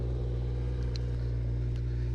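A Kawasaki Z1000 motorcycle engine drones steadily while riding, with a low, even hum and a faint high squeak, heard alone without talk.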